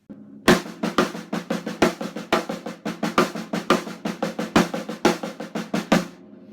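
Drum set sticking pattern built on double strokes, with accented strikes on the crash cymbal standing out among rapid, closely spaced hits in a driving, continuous rhythm, played close with no voices.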